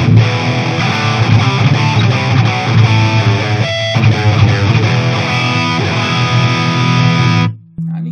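Electric guitar played through a BOSS DS-1X distortion pedal, loud, saturated chords ringing out continuously before cutting off abruptly near the end, leaving a faint low hum.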